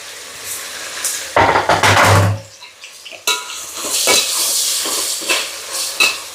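Two tomatoes hit a hot pan while chicken biryani is being made: a loud burst of sizzling and metal utensil clatter, then continued frying with scraping and stirring strokes.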